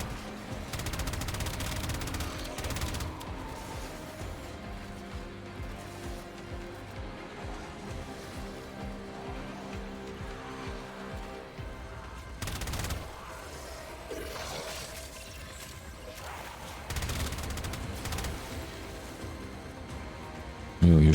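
Dense gunfire fills a Warframe boss fight near Fortuna on Venus, steady rattling bursts and sharp shots running continuously with a few heavier impacts.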